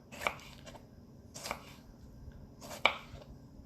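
A knife dicing a tomato on a cutting board gives three soft, separate chopping taps about a second apart, close and quiet with no talk over them.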